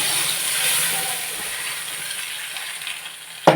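Hot mustard-seed tempering poured into a jackfruit curry gives a steady, close hiss that fades slightly over a few seconds and ends with a sharp click. No voices.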